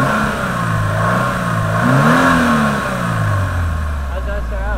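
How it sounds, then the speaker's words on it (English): A stock car engine with its hood open revs hard, pitch sweeping up and falling back in loud, close bursts, with voices talking over it. "so now we'll rev it"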